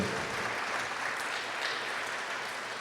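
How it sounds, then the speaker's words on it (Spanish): A church congregation applauds during a Sunday worship service, giving steady, even clapping throughout that sounds soft and somewhat distant, with no voices on top. "De un fuerte aplauso a nuestro Dios"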